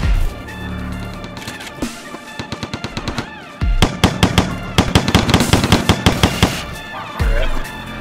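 Rifle gunfire from the video game Perdition: rapid bursts of loud, sharp shots in quick succession, broken by short gaps, with a heavy clattering volley near the end over a steady game soundtrack.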